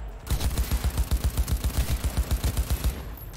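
Rapid automatic gunfire in the video game Cyberpunk 2077: a sustained burst of evenly spaced, punchy shots, about seven per second, loud and close for roughly three seconds before stopping.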